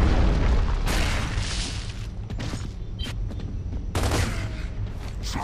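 A frag grenade detonating in a 2v2 multiplayer shooter, a loud booming blast that repeats in bursts of crackling gunfire and explosions across a busy, dense game mix with no voices.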